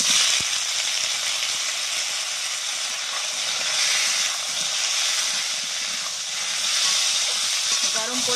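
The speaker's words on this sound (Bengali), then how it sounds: "আমটা দিয়ে দিচ্ছি তেলের মধ্যে।" Mango pieces sizzle steadily in hot oil while a mango chutney cooks, a continuous close frying hiss that swells slightly and never stops.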